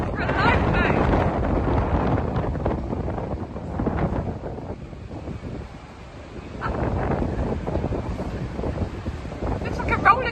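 Strong gale wind buffets an open deck of a P&O ferry crossing to Calais, roaring steadily into the microphone with brief lulls and gusts over about ten seconds.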